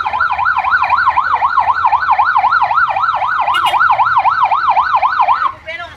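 Fire truck siren arriving at a house fire in a Nueva Ecija village, a loud, close, rapidly warbling wail repeating steadily for over five seconds before cutting off abruptly.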